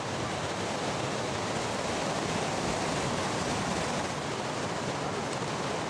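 Massive surf at Jaws roars as a continuous broadband wash, a dense steady rumble of breaking waves with no distinct individual crashes and no voices.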